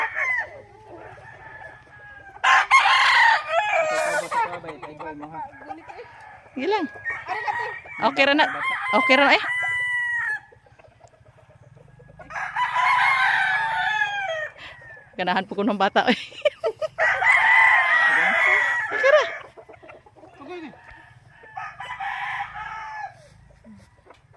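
Gamefowl roosters crow and cluck at the Seapower gamefarm in San Jose, San Isidro, Leyte, with several loud, drawn-out crows in bursts separated by pauses, while people talk intermittently nearby.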